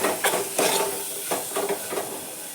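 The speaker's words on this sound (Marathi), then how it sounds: "मी आता ती डायरेक्ट फोडणी टाकणार आहे." A spiced masala tempering sizzles in a pan, with a steady hiss broken by several sharp bursts of frying and light scraping stirs, close up and with no talking.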